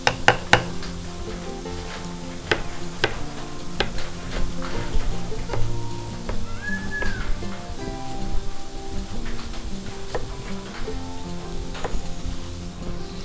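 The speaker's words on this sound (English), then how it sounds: "And just stir it till it get fried well." Stuffed crab filling fries in a pan and is stirred, making steady sizzling with repeated sharp scrapes and clicks of the spoon against the pan, with no one talking.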